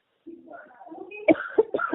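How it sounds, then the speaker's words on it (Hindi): A woman coughs on a phone call during a loan recovery dispute: after a soft, murmured stretch of voice, three short, rough coughs or throat-clearing bursts follow in quick succession, fairly close. "देखो खांसी आ रही है आपको"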